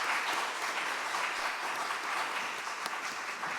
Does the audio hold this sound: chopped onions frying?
no